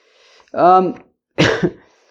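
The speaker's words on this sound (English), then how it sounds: "So there's the cough." Two short throat bursts nearby: a voiced grunt and then a harsh, breathy cough, separated by a brief silence.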